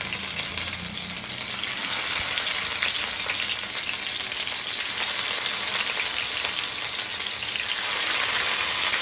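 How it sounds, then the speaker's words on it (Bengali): Prawns wrapped in gourd leaves frying in hot oil over a low gas flame, a steady dense sizzle and crackle throughout, close and continuous with no talking. "তেলটা আমার গরম হয়ে গেছে এবার গ্যাসের ফ্লেমটা একদম কমিয়ে দিলাম দিয়ে এবার লাউ পাতার ভেতরে চিংড়ি মাছগুলি এইভাবে আমি দিয়ে দিলাম"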